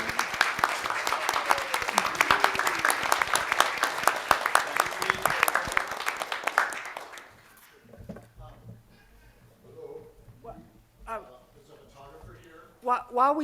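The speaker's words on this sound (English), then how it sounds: "could we have a round of applause for our director and writer, Gretchen Ike?" An audience at a theatre production applauds its director and writer, dense clapping for about seven seconds before it stops and scattered voices and movement follow.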